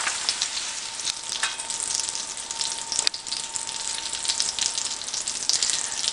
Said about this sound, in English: The pork loin has been seared on all 6 sides